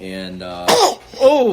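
A single sharp sneeze bursts out mid-conversation, close and loud, with a voice speaking just before and after it.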